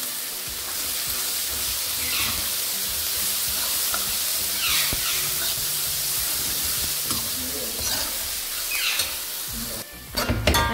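Sliced onions sauté in hot oil in a pan for a vegetable curry, giving a steady, loud sizzle with occasional stirring scrapes and a clatter near the end.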